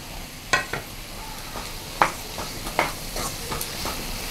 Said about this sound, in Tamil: நல்லா கலந்துடலாம்